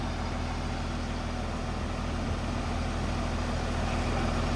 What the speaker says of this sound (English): Was a big tractor that though, wasn't it, really?